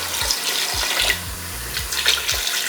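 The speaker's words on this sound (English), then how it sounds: "Cold water, adding to the pot." Cold tap water runs into a cooking pot of chicken in a home kitchen, a steady close splashing pour with a few low thumps and surges as the stream strikes the pot, with no talking.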